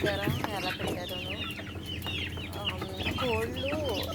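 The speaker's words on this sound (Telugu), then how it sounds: "వాళ్ళ కోళ్ళని, పిట్టల్ని, పక్షుల్ని అన్నీ పెంచుకుంటారన్నమాట వాళ్ళు." Chickens cluck and squawk steadily in a backyard coop in Dubai, several birds calling close by in overlapping bursts, with a few higher drawn-out calls near the end.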